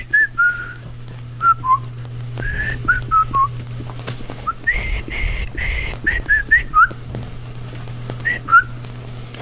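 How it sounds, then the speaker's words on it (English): A person whistles a march tune alone, a run of short, bright, warbling phrases with brief pauses between them, close and fairly loud over a faint steady hum. "Whistle for him as he leaves. Whistle him a march."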